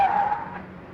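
A car's tyres skid sharply as a new car pulls into a residential colony in a Bollywood romantic comedy film: one loud, high squeal that trails off within about a second, with no voices.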